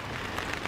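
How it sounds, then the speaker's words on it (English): Steady rain drums on the winter roof of a quail aviary during a flood advisory, a dense continuous patter with a few louder drops standing out. "We are in a flood advisory right now, so it is raining quite a bit."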